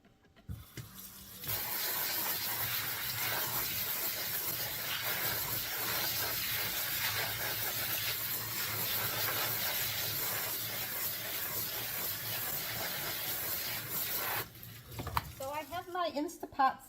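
A kitchen faucet runs at the sink while black beans are rinsed, a steady rushing hiss of water lasting several seconds before being shut off, followed by a brief clatter and light knocking sounds.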